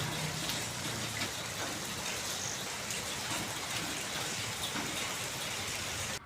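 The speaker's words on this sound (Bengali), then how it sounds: "এত রাতেই বেশ জোরে বৃষ্টি নামছে" Heavy rain pours down at night, a dense, steady roar of drops hitting surfaces that stays loud and unbroken throughout.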